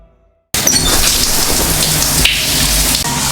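Heavy rain begins abruptly after a brief quiet moment, then pours as a dense, loud, steady hiss of drops on surfaces that lasts to the end.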